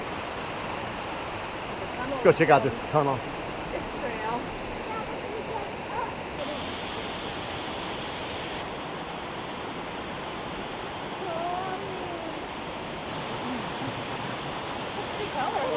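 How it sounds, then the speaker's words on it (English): A river flows at Natural Tunnel State Park: a steady, broad rushing wash of water that runs throughout. Near the start a person talks briefly over it, with a short louder burst. "There's this amazing river right there."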